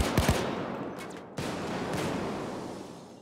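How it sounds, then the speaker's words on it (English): A shotgun fires in the PayDay 2 heist game, with two or three sharp blasts near the start and another sharp crack partway through, each trailing off into a noisy echoing tail. "Freaking shotgun has some damn impressive range on it."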